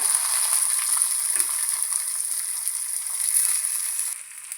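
Chopped shallots sizzle steadily in hot oil with browned urad dal for an Onam sadya koottukari, a loud continuous frying hiss that eases slightly near the end, with no talking.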